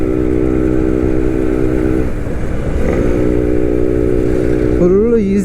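A Suzuki Max 100 two-stroke motorcycle runs steadily and loudly on an evening ride, its engine note holding a constant drone that rises slightly near the end, with no talk over it.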